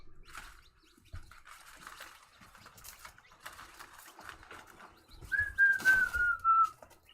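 One-month-old chicks peep, with a thin descending whistle-like chirp standing out near the end, amid scattered rustling and shuffling.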